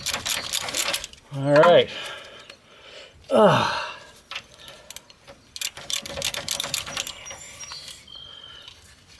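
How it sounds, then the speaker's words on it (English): A Pitman arm and tie rod end tool works on the drag link of a Nissan Frontier, giving close, squealing metallic creaks and grinding strains in two short bursts while someone talks. "we're ready to pop this off by using that Pitman arm tool, tie rod end tool"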